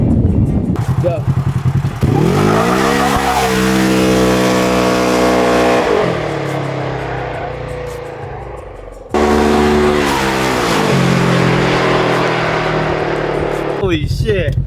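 A Polaris RZR fitted with a clutch kit roars through two hard revving runs, its tires squealing and spinning loudly, with rising engine pitch and a brief drop in between.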